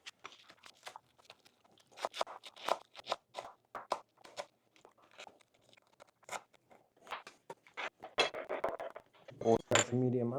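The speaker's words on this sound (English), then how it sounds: "We got to get at least 4 of those chopped up." A knife chops shallots on a cutting board in a home kitchen, giving irregular, faint taps and crunches in short bursts. A louder clatter comes near the end.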